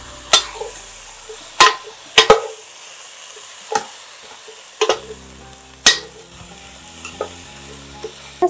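Chicken cooks in a pot while a utensil stirs it, sharp scraping knocks arriving every second or so over a low simmering sizzle, close and clear, with no talking.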